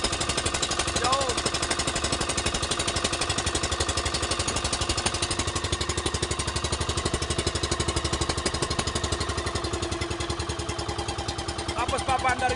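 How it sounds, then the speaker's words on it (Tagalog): A double-engine boat running while towing another boat, its engines giving a loud, continuous rapid chugging that stays steady from start to finish. "Double engine na po ito"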